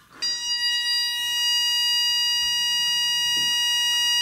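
A piercing, steady electronic beep from an anti-bark dog collar at its highest intensity level sounds for around four seconds without a break, with faint handling noise underneath.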